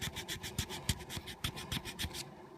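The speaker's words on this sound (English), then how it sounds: "So this file right here is just a little triangle file. Allows you to get in there and make the initial cut." A small triangle file rasps into a hole in an HO scale model railroad walkway, close and fairly quiet, about a dozen quick regular strokes before it stops.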